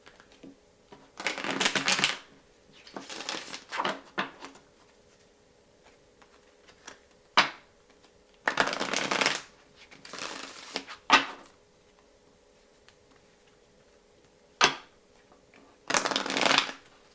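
Someone shuffles a Chakra Wisdom oracle card deck in several separate bursts of riffling and flicking, each a second or two long, with quiet pauses in between and no talk.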